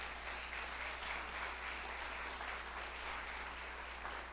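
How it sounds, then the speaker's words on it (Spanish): A church congregation applauds during a sermon, a soft, steady wash of clapping heard at a distance with a constant low hum underneath. "Dale el aplauso si se lo quieres dar."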